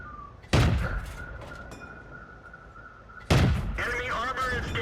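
Two loud tank cannon shots in World of Tanks, each a sharp, heavy blast with a long decaying rumble, spaced about three seconds apart over a steady engine drone.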